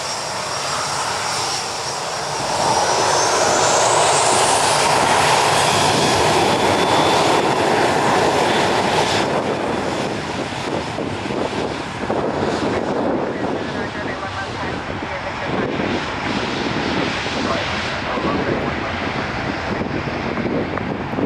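A Southwest Boeing 737 with its right engine on fire roars loudly and steadily throughout, a continuous jet engine rumble mixed with buffeting wind noise, rising slightly in pitch early on and staying heavy until the end.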